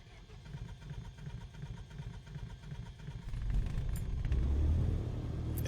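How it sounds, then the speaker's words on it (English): The first engine of a DH.88 Comet in Microsoft Flight Simulator is cranked by its starter. A low, churning rumble runs for about three seconds, then grows louder and fuller as the engine catches and settles into a steady run, with no talking. "now, and our starter for our first engine."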